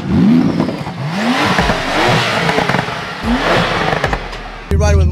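Lamborghini Huracan STO and Porsche 911 GT2 RS engines rev loudly at a drag race start, rising and falling in repeated swells with clatter and people talking over them, before a sharp change near the end.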